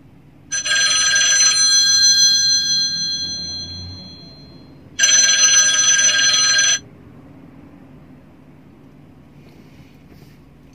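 Telephone bell rings in two loud, harmonic bursts, the first lasting about four seconds and the second shorter, with near silence between and after.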